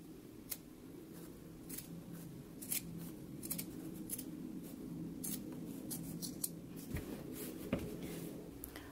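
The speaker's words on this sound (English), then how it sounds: "we can go ahead and trim it down close to the stitch" Scissors trim sewn fabric on a pants flap close to the stitching, giving a steady run of soft snips and rubbing over a low background hum, with no talk.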